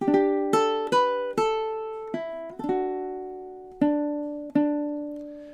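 Ukulele picking out measure 7 of the Star Wars melody, about eight clear plucked notes in a steady rhythm, close and alone with no talking.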